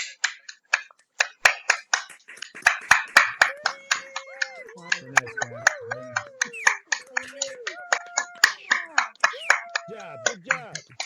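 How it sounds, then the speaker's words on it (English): Scattered claps and finger snaps from a small online summit audience, sparse and uneven, pop out one by one while a voice talks and hums underneath. "if you'd like to give that production a round of applause,"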